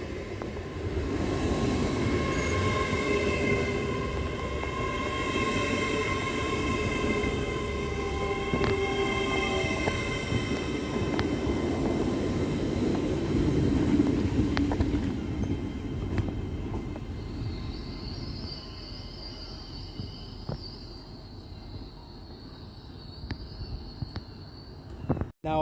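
An LNER Class 800 Azuma train, unit 800-107, rumbles steadily through Doncaster station for a long stretch, the rolling noise fading later as a high whine lingers and a station announcement begins near the end.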